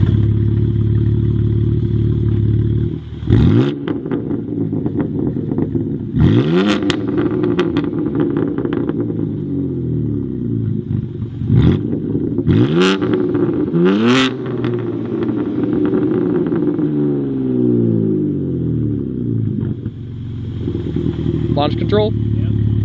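BMW G80 M3 with catless downpipes revving hard in repeated bursts, loud and close, with sharp throttle blips and rasping decel crackles between long rising and falling sweeps.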